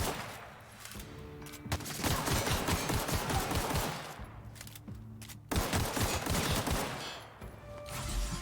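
Rapid bursts of gunfire in The Outer Worlds sci-fi shooter game, dense clattering volleys repeating over several seconds with brief pauses, loud and close, with no talking.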